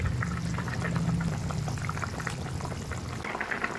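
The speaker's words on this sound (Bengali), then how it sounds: "এবারে আমি ভেজে রাখা মাছ দিয়ে দেব" Fried mrigal fish going into a simmering curry of taro and potato, a dense bubbling, liquid rush with soft splashes, close and steady, no talk.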